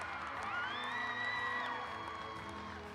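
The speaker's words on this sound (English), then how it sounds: "Fans, how about a round of applause for Jay Ramirez?" Gymnastics championship crowd in an arena cheering and whooping continuously, with a steady wash of applause and a few high whistles rising above the noise.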